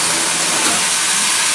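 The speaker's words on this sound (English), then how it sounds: "Put the chicken in there. You hear it sizzle," Raw chicken drops into a very hot oiled pan for roasting and sizzles, a loud, dense, continuous hiss held close throughout.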